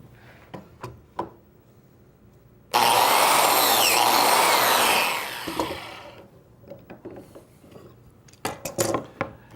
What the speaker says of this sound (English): Take this one, clamp it to the bench, and make the slot in the end.